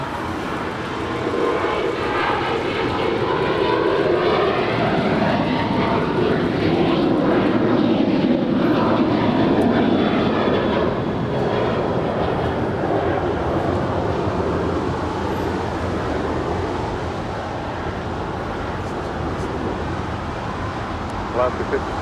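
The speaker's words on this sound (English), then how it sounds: "Our next departure is the Alaska Airlines More to Love livery on our way to Tampa." An Alaska Airlines jet in More to Love livery departs Los Angeles International Airport bound for Tampa, its engines a broad, loud, steady roar that holds for about twenty seconds and eases slightly near the end, with talk mixed in.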